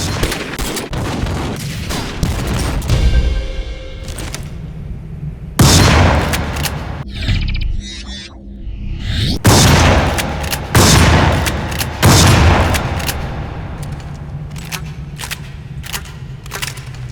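Shotgun blasts from the video game Crysis 2, loud heavy booms fired one after another in irregular bursts with reload clatter between shots, impacts ringing out, no talking.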